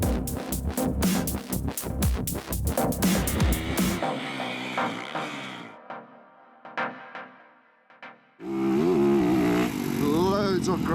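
A Yamaha YZ450F motocross bike's engine revs hard while riding, loud and close, with rapid pulsing bursts, a brief lull as the throttle drops, then a strong steady roar returning near the end.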